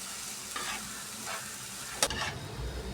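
Chicken masala fry is stirred in a pan with a few scraping strokes and a sharp clink of the spoon, against a soft steady sizzle, fairly quiet and close.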